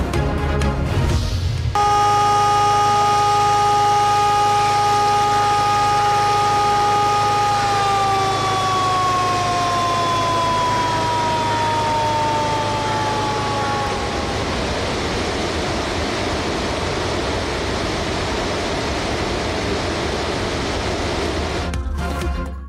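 Warning sirens sound at Rawal Dam in Islamabad as its spillways open, a loud, continuous wail with a steady pitch that slowly slides downward, running over a rumbling engine-like drone for about twenty seconds.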